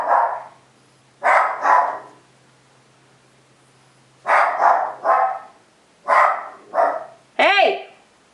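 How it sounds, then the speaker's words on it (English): Dogs bark in short clusters of two or three sharp barks separated by pauses, fairly close, with a brief whine-like yelp at the end. "the dog's barking at him"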